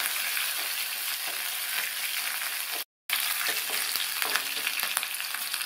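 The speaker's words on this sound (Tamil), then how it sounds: "இதை லைட்டா வதக்கி விட்டுக்கலாம்." Sliced green chilies and curry leaves sauté in hot oil for beans poriyal, making a steady, close crackling sizzle with stirring scrapes and one brief dropout partway through.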